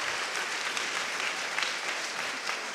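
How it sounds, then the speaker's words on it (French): A live audience at a public talk bursts into sustained, dense applause, many hands clapping evenly and loudly throughout without pause. "Je n'ai jamais eu des applaudissements comme ça en conseil municipal"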